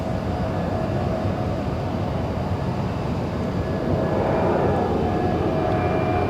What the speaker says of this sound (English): Delta Airlines doing the go-around above us